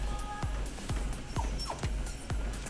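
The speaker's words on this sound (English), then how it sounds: "Now my dog is like, what? And he's going crazy." A dog gives a string of short, sharp yips and whimpers in a quiet indoor room, evenly spaced about every half second, fairly faint and with no talking.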